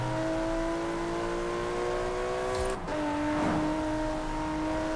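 A Range Rover Velar in Forza Horizon 4 drives with a steady droning engine note that climbs as it accelerates, briefly dips at a gear change, then pulls on, loud and continuous with no voices.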